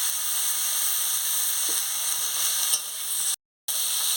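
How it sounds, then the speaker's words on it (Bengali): Pumpkin leaf paste fries in a little oil while being stirred, making a constant close hissing sizzle with a faint scrape, cut off by a brief silent gap near the end. "দেখুন কীভাবে আমি নাড়াচ্ছি।"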